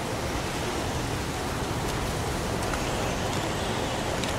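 Steady, dense rain pours down without a break, a broad hiss that stays even and fairly loud throughout, with no voices, from a cemetery scene in the video game Heavy Rain.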